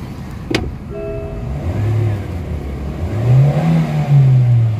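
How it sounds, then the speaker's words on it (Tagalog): A Morris Garages car engine with a throttle delay fault revs between 3,500 and 4,500 RPM, its pitch climbing and falling as the throttle is pushed, steady and fairly loud with no talking. "So pakinggan natin guys yung kanyang RPM."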